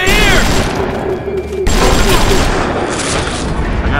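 Gunshots in the BioShock video game, a loud burst of rapid gunfire with booming impacts and a sudden sharp cut midway, followed by more dense firing and game noise; a voice is briefly heard.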